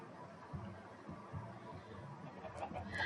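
Minecraft chickens cluck quietly on a farm in the video game, a few soft scattered clucks faint in the background with brief clicks near the end.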